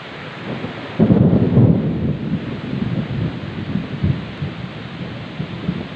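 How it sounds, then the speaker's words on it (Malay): Steady rain pours by a river in Juli district, Bireuen, during flood season, with low rolling thunder swelling up near the start and rumbling on beneath the constant hiss of rainfall and some wind buffeting. "Ini sudah turun hujan lagi."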